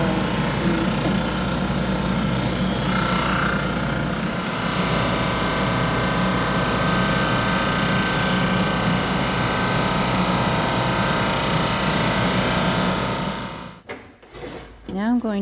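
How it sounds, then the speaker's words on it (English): A drum sander grinds steadily and loudly across wood and resin panels, a continuous rasping roar that runs for several seconds, then cuts off abruptly and spins down near the end. "sand these down on the drum sander to make sure that the wood and the resin layer is all one level smooth finish"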